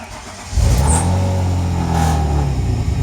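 A car engine fitted with a new battery cranks briefly and catches, then settles into a loud, steady rumbling idle close by.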